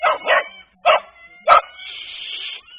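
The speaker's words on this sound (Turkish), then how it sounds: "Tamam yeter havlama." A scared small dog barks sharply in a quick close series of yips, pausing between bursts, then trails off into a thin high whine.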